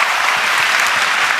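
A church congregation claps together in a dense, even burst of applause, loud and close, lasting only a moment with no voices over it.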